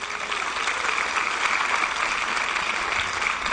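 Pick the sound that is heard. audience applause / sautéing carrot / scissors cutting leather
audience applause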